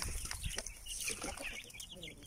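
A hen clucks and chatters close by in short bursts, with soft rustling and faint background noise around it.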